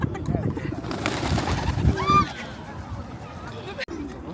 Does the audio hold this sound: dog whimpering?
no